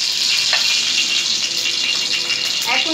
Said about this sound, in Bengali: এখন এটাতে আমি ঘি দিয়ে নিব দেখুন কেমনভাবে পুড়ে উঠছে ঘিটা